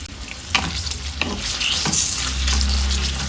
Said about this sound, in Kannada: ಎರಡು ಈರುಳ್ಳಿನ ಕಟ್ ಮಾಡಿ ಇಟ್ಕೊಂಡಿದ್ದೀನಿ ಅದನ್ನು ಸೇರಿಸ್ಕೊಂಡು ಚೆನ್ನಾಗಿ ಫ್ರೈ ಮಾಡ್ಕೊಳ್ಳೋಣ